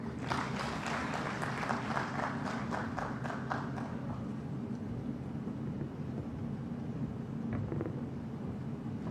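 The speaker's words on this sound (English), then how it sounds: "Ladies and gentlemen, round of applause." An audience at a high-level economic growth forum claps, distinct individual claps at the start merging into a sustained, even wash of applause that fades near the end, with a low background rumble.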